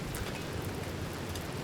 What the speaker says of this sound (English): Rain! Rain! Thank you!